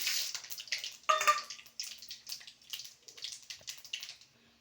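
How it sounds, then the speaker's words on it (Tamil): Mustard seeds crackle and sputter in hot oil, a close run of quick, uneven pops and sizzles, with one brighter burst partway through. "எண்ணெய் காஞ்சதும் கடுகு போட்டுக்கலாம் கடுகு பொறிஞ்சிட்டு இருக்கு"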